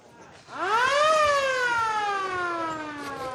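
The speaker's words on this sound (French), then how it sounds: "La sirène retentit. C'est l'heure de l'embauche." A mine siren in Colombia signalling the start of the work shift, a single rising wail that swells to a sustained tone and then slowly slides downward, fairly loud over quiet background.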